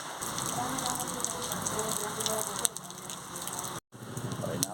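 Steady rain falls on a surface outdoors, a dense hiss of raindrops with a brief dropout near the end, fairly faint and without speech.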